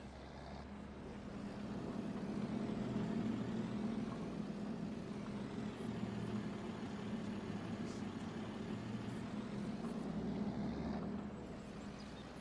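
A tractor engine in the Farming Simulator game, on the Green Valley Nebraska map, gives a steady low rumbling drone that holds evenly throughout, with no voices.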